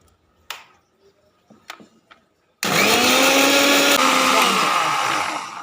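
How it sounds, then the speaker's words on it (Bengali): A mixer grinder blends whole ginger, green chillies and cumin seeds with a little water into a paste. After a few quiet kitchen clinks it starts abruptly into a loud, steady, high whirring that runs to the end. "আমি মিক্সিটা একটু ঘুরিয়ে নেব"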